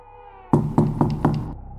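Four sharp knocks come one after another at a steady pace, loud and close, after a soft low hum, as a sound effect in a horror story; no voices.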